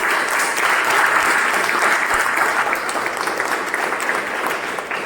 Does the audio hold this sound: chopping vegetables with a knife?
no